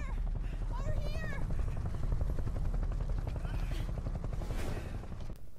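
A rescue helicopter in the video game Metal Gear Solid 5 keeps up a loud, steady rotor thump throughout, with voices and scattered gunfire-like bursts over it.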